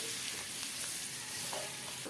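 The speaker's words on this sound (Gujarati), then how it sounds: "ધીમો ગેસ રાખી અને મસાલાને આપણે થોડી વાર માટે સાતળવાનો છે" Masala with chopped tomato sautéing in a pan over a low flame, giving a steady soft sizzle with faint stirring scrapes throughout, no voices.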